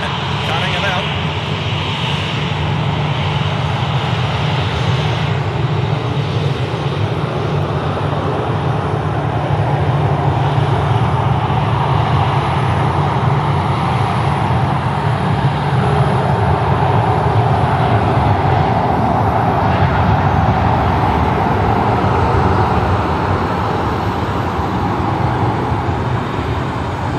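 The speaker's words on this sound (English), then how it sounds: "It was drowned out by the 737 taxiing past." A Boeing 737 taxis past at night at Sydney Airport, its steady jet engine roar loud and continuous throughout, with people talking over it.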